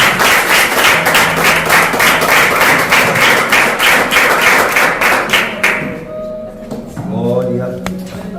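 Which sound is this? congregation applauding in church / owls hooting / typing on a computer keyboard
congregation applauding in church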